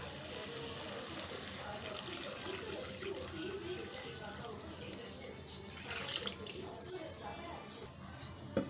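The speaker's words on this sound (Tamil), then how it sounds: "ஆறரை டம்ளர் தண்ணியை சேர்த்துக்கலாம்" Water pours steadily into a pot, a continuous splashing gush that runs for several seconds.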